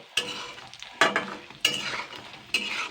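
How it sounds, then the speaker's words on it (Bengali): Fritters sizzle in hot oil while being turned until reddish, with four distinct scraping stirs over a steady crackling fry and no talking. "এবার আমি সুন্দর করে লাল লাল করে ভেজে নিয়েছি"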